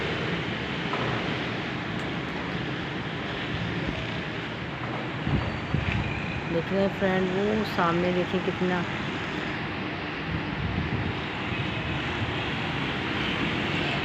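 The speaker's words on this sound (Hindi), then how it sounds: "बहुत तेज़ हवाएं चल रही हैं, आंधी आ रही है" Strong dust-laden windstorm in Karachi, a continuous loud roar buffeting the microphone, with someone talking over it throughout.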